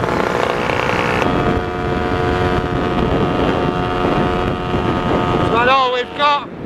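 A Lambretta scooter on a ride gives a steady engine drone under heavy wind rush at the microphone. Near the end the engine note rises and wavers briefly as the wind dips.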